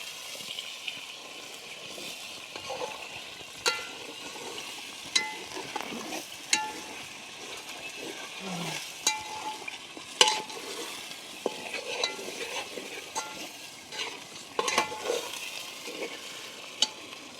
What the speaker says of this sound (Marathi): मसाला चांगला दोन मिनटं मी शिजून दिला चांगलं तेल आता तेल सुटलं